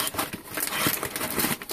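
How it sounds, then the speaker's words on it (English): Crumpled paper stuffing handled while unpacking a shipping box, giving close, dense crinkling and rustling bursts with no talk. "Just some crumpled up paper."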